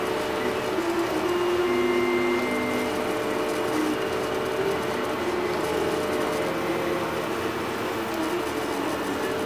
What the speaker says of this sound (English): We've been printing for an hour and 14 minutes